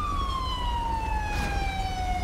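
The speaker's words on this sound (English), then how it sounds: "Okay, that siren though." Police siren from GTA 5 with the LSPDFR mod during a park ranger patrol, a loud, steady wailing tone that sweeps slowly downward in pitch and holds close and continuous throughout, with no talk over it.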